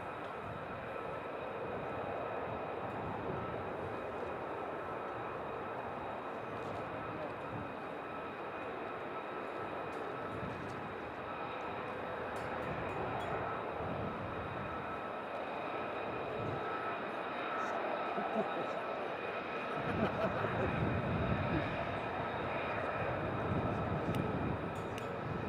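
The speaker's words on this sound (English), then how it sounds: "More F-35s going across now" F-35 fighter jets passing over RAF Lakenheath, a steady broad roar of jet engines sustained throughout, swelling somewhat louder toward the end, heard from a distance with no talk.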